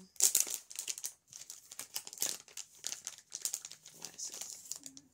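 A plastic sticker-club packet of Halloween stickers is opened close up, with quick bursts of crinkling and rustling in an uneven rhythm, some bursts sharper and louder than others.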